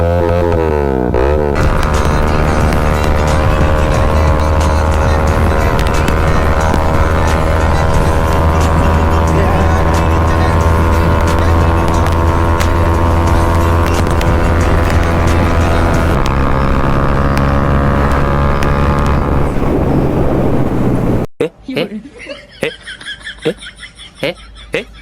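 A 2024 Bajaj Pulsar NS200 motorcycle with an Akrapovic exhaust runs close by, a loud sustained engine drone with a steady harmonic tone that shifts pitch partway through, then cuts to quieter mixed sounds at the end.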